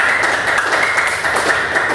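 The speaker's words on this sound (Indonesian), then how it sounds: "tepuk tangan untuk kelompok 1" Classroom of primary school pupils clapping for a group, a dense, close, continuous patter of small hands with no talk.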